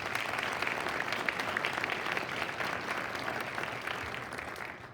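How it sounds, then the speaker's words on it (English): An audience at the Ohio Fairs Queen Contest breaks into steady, sustained applause, a dense wash of clapping that holds for several seconds before fading slightly at the end, with no speech over it. "give Bev a round of applause anyhow"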